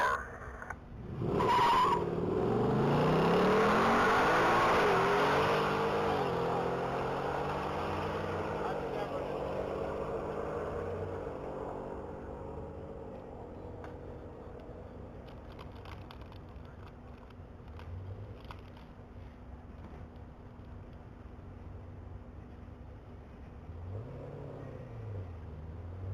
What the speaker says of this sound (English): That's going to be Monty Weeks, piloting his 2018 Mustang GT.